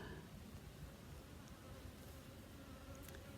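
Honey bees buzz steadily in and around a keeper's hive they have just been moved into, a dense continuous hum heard close up with no voices.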